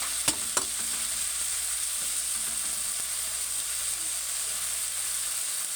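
Squid adobo with tomatoes sizzles in a pan, giving a constant close hiss and two sharp clicks near the start, with no voices over it.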